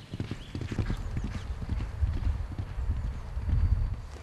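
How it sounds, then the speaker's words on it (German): Hooves of a racehorse on a sand training track at the Dresden galloping racecourse thud in a quiet, rhythmic clip-clop, fairly soft and muffled by the sand, with no talking. "Durch die dämpfende Wirkung des Sandes beim Auftreten des Pferdes werden die Gelenke der Pferde geschont."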